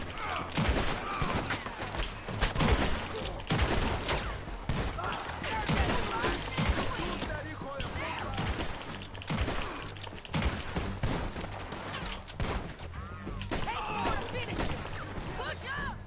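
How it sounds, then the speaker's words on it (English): Rapid, dense gunfire from Red Dead Redemption 2 crackles almost continuously, loud sharp shots piling over one another in a chaotic firefight, with voices shouting beneath the volley. "I'm firing!"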